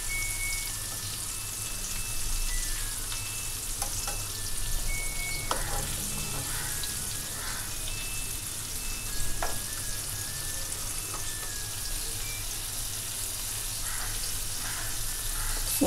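Garlic and curry leaves sautéing in oil over a medium flame before frying prawns, a continuous close sizzle with scattered light pops and occasional stirring clicks, no talk.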